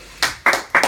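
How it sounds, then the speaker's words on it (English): Three sharp, separate clapping bursts from a small audience, close and loud, spaced roughly a quarter second apart as a brief round of applause. "Another round of applause."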